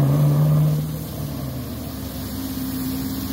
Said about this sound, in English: Oh, the nice Camaro making some noise.